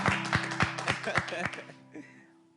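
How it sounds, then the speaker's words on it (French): An audience claps in slow, even unison, about six or seven loud, sharp beats in a steady rhythm. The clapping then tapers off and leaves a low sustained hum and a brief soft sound behind it. "Applaudissez. Allez, applaudissez."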